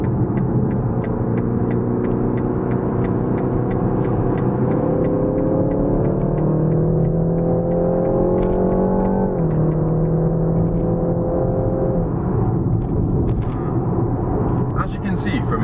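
A car cruises at about 75 on the motorway in sport mode, a steady loud engine and road drone running throughout with a gradual pitch rise, and a voice talks over it.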